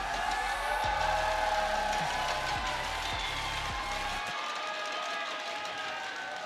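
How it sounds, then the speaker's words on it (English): Large esports finals crowd cheering and roaring for Fnatic, a dense sustained wall of voices heard at a distance, with low tones in the arena sound briefly layered over it. "If you'd like to see them take it, give them a cheer, please."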